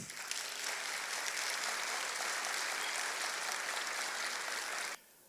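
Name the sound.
applause for the next speaker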